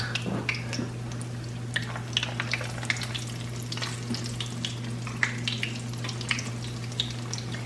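Chicken for a Middlesbrough parmo frying in hot oil, a steady close sizzle scattered with crisp pops and crackles over a low constant hum, with no talk.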